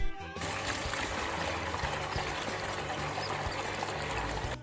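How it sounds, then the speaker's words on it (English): A mixing pump emptying water from a seed treater tank after cleaning, producing a steady, loud rush of pouring water with a continuous pump hum underneath. "Close the top valve, open the side valve, and turn on the mixing pump."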